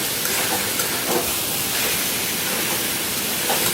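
Tomato pieces frying in a pan for pasta give off a steady, even sizzling hiss, close and continuous for the whole stretch, with faint crackles scattered through and no voices.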